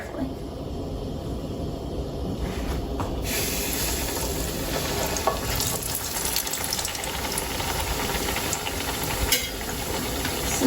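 Fry bread dough frying in hot oil, a steady loud sizzling hiss that continues throughout with a few small pops and crackles.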